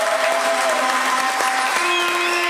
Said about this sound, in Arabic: تحب تصفيقة كبيرة ليهم الكل